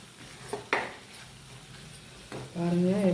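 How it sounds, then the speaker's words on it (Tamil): Masala paste stirred and sautéed in hot oil for an egg masala gravy, with a few scraping spatula knocks against the pan and a soft sizzle that swells louder near the end. "இந்த மசாலா நல்லா வதங்கணும் எண்ணெயில்."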